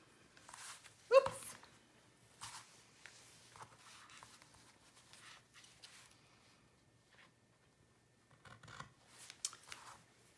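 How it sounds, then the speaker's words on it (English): Scissors trimming the tail of a paper ribbon on a handmade card, faint close snips with one sharper cut near the start, among quiet handling noises and no talking. "I'm gonna come in with my scissors and trim the tail up here"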